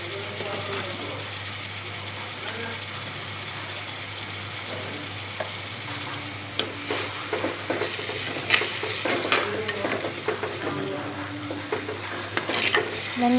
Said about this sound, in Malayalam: ആവശ്യത്തിനുള്ള ഉപ്പും ചേർത്ത് ഇളക്കണം.